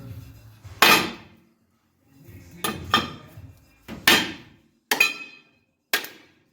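A hammer strikes a truck ball joint several times to knock it loose, sharp metallic clanks in irregular bursts, loud and close, with quiet gaps between blows.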